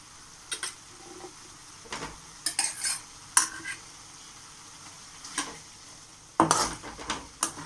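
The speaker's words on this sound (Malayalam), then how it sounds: "ഇനി ഇതിലേക്ക് നമ്മൾ നല്ല കഴുകി വൃത്തിയാക്കി വെച്ചിരിക്കുന്ന മൾബറി ഇടുകയാണേ." Mulberries dropped into boiling vinegar and spice paste for pickle, a faint bubbling simmer under scattered clinks and scrapes of a spoon against the pot, with several sharper knocks near the end.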